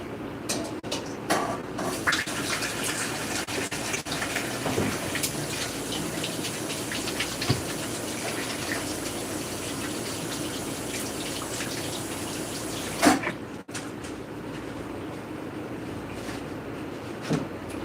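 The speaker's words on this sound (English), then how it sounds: "Go wash my hands." A kitchen tap runs steadily while hands are washed beneath it, a continuous close gush broken by small knocks and splashes, with a sharper clatter near the end before the flow briefly cuts.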